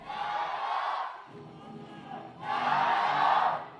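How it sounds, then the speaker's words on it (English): A large indoor home crowd roars and cheers at a FIBA 3x3 women's basketball final in two loud swells with a quieter murmur between them. "Now you hear the crowd trying to hype up their home team"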